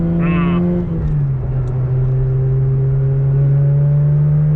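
A Mazda RX-8 rotary engine pulling in first gear, a steady loud drone that dips briefly then holds a smooth even pitch, heard from inside the car.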